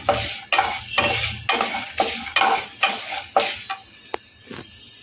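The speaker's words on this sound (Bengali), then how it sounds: "হলুদটা দিয়ে একটুখানি নেড়ে নেবো, যাতে হলুদ থেকে কোনো কাঁচা গন্ধ না বেরোয়" Turmeric frying for lemon rice is stirred in a pan, with about a dozen rhythmic scraping strokes of a spoon over a soft, steady sizzle, close and clear with no talking.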